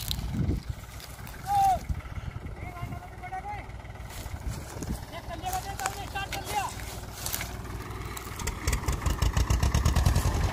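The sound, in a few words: Mahindra 265 DI tractor engine pulling a stuck sugarcane trolley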